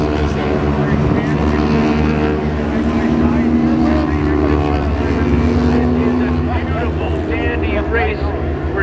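Lightweight sportbikes race around a track at an amateur motorbike festival, a continuous loud drone of high-revving engines under constant excited commentary.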